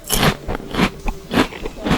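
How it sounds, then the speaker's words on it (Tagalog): Biting into food and chewing, a series of crunchy, scraping bites repeating roughly every half second, close and fairly loud with no talk. "Unang kagat."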